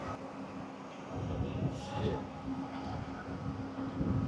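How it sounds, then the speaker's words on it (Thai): Steady low rumble inside a high-speed passenger train, with continuous rolling noise and a faint tonal hum, no talking. "วันนี้เป็นรถไฟความเร็วสูง"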